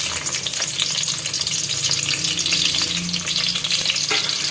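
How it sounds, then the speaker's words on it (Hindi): Onion sizzles and sautés in cooking oil in a pan, a steady close crackling hiss with occasional stirring scrapes and no voices. "हल्का सा प्याज को सौटे करेंगे।"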